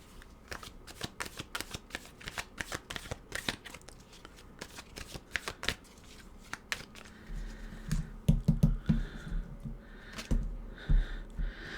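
Tarot or oracle cards shuffled by hand in a quiet room, a long run of crisp riffling snaps and soft slides in irregular bursts, fairly close, with a low hum joining near the end and no talk.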